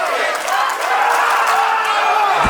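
At an SHW wrestling event, the audience keeps up a loud, continuous roar of cheering and chanting, a thick mass of shouting voices that stays steady, with a brief thump near the end.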